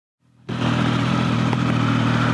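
Motorcycle engine on a mountain road trip, starting with a faint rise and then settling into a loud, steady, close idle rumble with a continuous throbbing beat.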